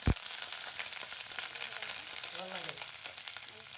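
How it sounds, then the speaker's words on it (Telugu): Dried red chillies and curry leaves tempering in hot oil for a raw papaya curry, giving a steady close sizzle and crackle throughout, with a sharp pop at the start and faint utensil stirring. "ఒక ఏడెనిమిది ఎండుమిర్చి అలాగే కరివేపాకు వేసేసి ఈ విధంగా పోపుని వేగనిద్దాము"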